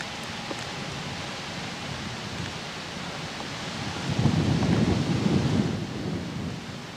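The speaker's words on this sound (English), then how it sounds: "rain coming down pretty steadily now" Steady rain falls on the Oakmont golf course during the final round of the 1992 U.S. Women's Open, a dense, even hiss that swells louder and rumbles for a couple of seconds before easing.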